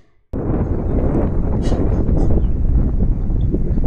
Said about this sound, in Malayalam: നല്ല കാറ്റും കേട്ട് അടിപൊളി വൈബാണ് ഇവിടെ